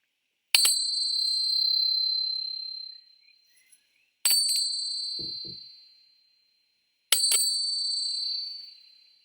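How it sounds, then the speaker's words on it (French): A small bell rings three times, evenly spaced, each clear chime fading slowly into silence. "Et tout ça encadré par le son des cloches."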